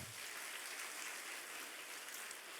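Children applauding during a Sunday church service, a steady, even patter of clapping heard somewhat distantly and softly throughout.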